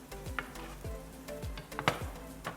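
Red onions frying in heating oil for a vegan bolognese, a steady soft sizzle with intermittent crackles and spoon stirring scrapes, close and quiet with no voice.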